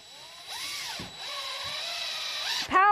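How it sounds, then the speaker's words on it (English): A power tool whirs steadily while building a wooden seesaw for goats, its pitch rising and dipping as it revs, ending in a sharp burst of grinding noise. "power tool."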